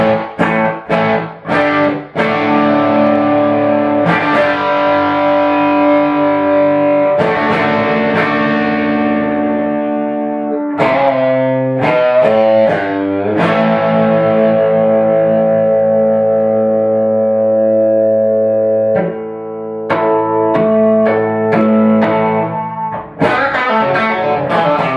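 Heavily overdriven electric guitar through a Boss ME-90 multi-effects unit rings out in gritty chords and bursts, sustained notes echoing between sharper strummed attacks, loud and close.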